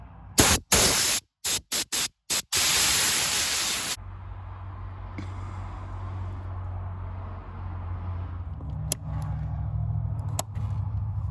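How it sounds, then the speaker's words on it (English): Compressed air blasts in several short bursts from a nozzle, cleaning a Corvette C3 fuse box, loud and hissing, then giving way to a lower steady hum. "Air compressor."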